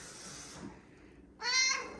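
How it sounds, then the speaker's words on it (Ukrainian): A hungry cat meows loudly up close, one drawn-out harmonic cry at the end, preceded by softer indoor rustling and a faint breathy sound. "То Кітя кричить і хоче їсти"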